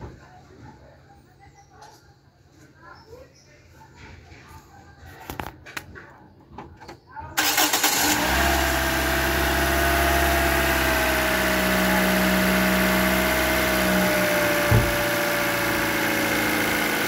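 A 2014 Toyota Altis engine with freshly changed spark plugs cranks and catches after faint background noises, then settles into a loud, steady, even idle hum that runs for the rest of the clip.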